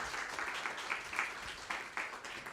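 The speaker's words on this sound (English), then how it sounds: "So can I have one applause?" Conference audience giving a short round of applause, a fairly faint, steady patter of clapping hands with a few louder claps standing out, heard at a distance.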